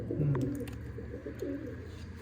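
Pigeons coo softly nearby, a few low throaty calls repeating over quiet background hum, with a faint tap near the end.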